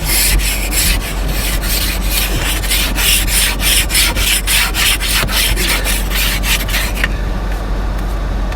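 Frost is scraped off the inside of a car during a Québec winter, a loud, close, rhythmic rasping with steady back-and-forth strokes for several seconds before it stops abruptly.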